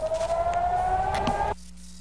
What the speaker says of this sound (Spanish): suenan las sirenas de alarma de ataque aéreo